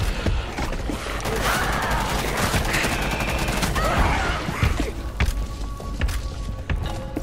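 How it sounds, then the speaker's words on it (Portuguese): Rapid gunfire in the video game Rainbow Six Extraction, loud, overlapping bursts and thuds that blend into a continuous barrage with no pauses. "Garoto, é muito tiro, mano."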